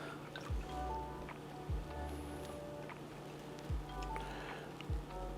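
A Negroni is poured into a glass, with soft, faint trickling and dripping liquid sounds and a few low knocks, quiet and close.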